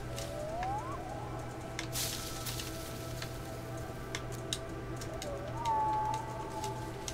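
In the video game Fe, a bird gives two soft cooing calls, one near the start and one near the end, faint over a steady low hum and scattered quiet clicks.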